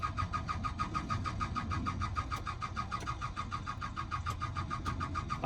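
A Suzuki Swift 1.6 AWD five-door saloon cranks continuously with a fast, even starter-motor rhythm throughout, the engine not catching, close and loud.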